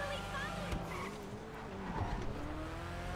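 An Annis ZR350 tuner car in GTA 5, modelled on a Mazda RX-7, drones steadily while driving, its engine note rising and falling at moderate, constant level.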